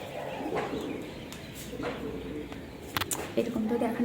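Pigeons or doves coo near a house beside a kitchen, soft and repeated against steady room noise, with a few brief chirps toward the end.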